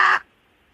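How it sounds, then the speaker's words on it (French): A single recorded crow caw played over a telephone, one short harsh call that cuts off abruptly into near silence. "Ça, c'est la voix d'un corbeau."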